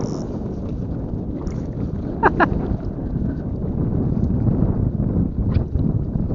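Steady low engine drone of a motorboat with wind rumble from a strong northeast monsoon wind while fishing, a few brief higher tones cutting through midway.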